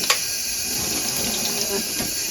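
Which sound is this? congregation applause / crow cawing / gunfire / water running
water running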